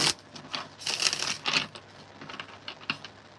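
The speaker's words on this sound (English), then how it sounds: "let me shuffle this deck real quick" Tarot card deck being shuffled by hand, close and fairly loud, with quick bursts of riffling and soft card slaps in an uneven rhythm, no talk.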